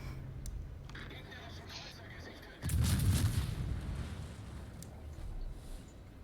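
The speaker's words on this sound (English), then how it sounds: "your cruiser's just sailing around and randomly shooting the seas" Cruiser guns firing in the naval battle game World of Warships, a sudden loud booming salvo that rumbles and fades over several seconds, with talk before it.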